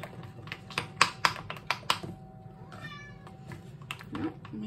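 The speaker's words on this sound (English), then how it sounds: "kitty cat just made an appearance." A pet cat gives a short meow amid a kitchen where no-bake peanut butter oat bars are being made, preceded by a series of sharp clicks and taps at close range.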